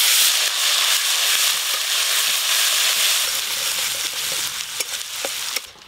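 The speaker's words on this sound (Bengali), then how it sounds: "গরম তেলে আদা দিলে তেল কিন্তু প্রচুর ছিটায়" Turmeric, ginger and green chili paste frying in hot oil, a loud, dense sizzle and crackle with stirring scrapes, steady and close, easing slightly toward the end with a few sharp pops.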